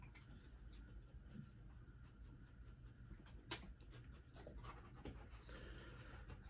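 A dog panting rhythmically close by, quiet and steady, with a few faint ticks and clicks in the background.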